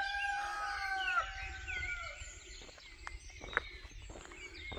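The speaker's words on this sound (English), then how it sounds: "I think there are two cockerels competing." A cockerel crows loudly nearby in the countryside, a long drawn-out call, followed by softer clucks and rustling, with a second cockerel crowing fainter in the background.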